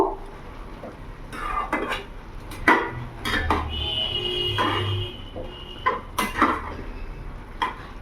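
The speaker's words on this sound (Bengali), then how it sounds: "এবার ভালো করে আমি নেড়ে নেব" Turmeric, chilli powder and cumin powder being stirred in a cooking pan, with metal spatula scrapes and clinks at irregular intervals over a low steady background hum, no talking.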